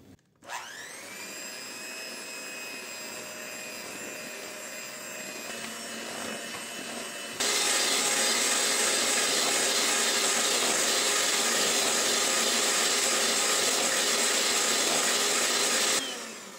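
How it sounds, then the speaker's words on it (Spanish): Electric mixer whipping cream with vanilla and powdered sugar to peaks, a loud whirring motor whine that holds steady, then jumps to a higher, harsher speed before cutting off, no speech. "Y vamos a batir hasta que forme picos."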